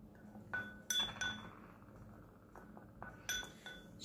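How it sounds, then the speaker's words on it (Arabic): Metal spoon stirring ground coffee and ginger in a glass, producing a few quiet, bright clinks in irregular bursts against the glass, close up with near silence between strikes. "المكون التاني بقى هناخد معلقه كده من الزنجبيل ونقلبهم مع بعض"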